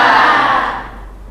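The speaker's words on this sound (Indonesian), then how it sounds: "Woi, kasih tepuk tangan dong buat yang bawa tumbler." A group at a school teacher-mentoring session breaks into a short, loud burst of applause and cheering that fades out within about a second.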